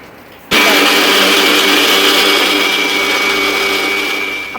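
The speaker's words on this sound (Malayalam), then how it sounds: "അതെല്ലാം കൂടി ഒന്ന് മിക്സിയിൽ നന്നായിട്ടൊന്ന് അരച്ചെടുക്കാം" A kitchen mixer grinder runs loud and steady, grinding onion, tomato, spice and tamarind into a paste for a seer fish curry, switching on abruptly after a brief quiet moment and whirring without pause.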